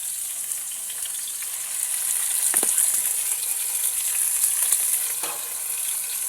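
Food sizzles steadily in hot oil in a home kitchen, a dense continuous frying hiss with a few louder crackles and pops, up close with no talking.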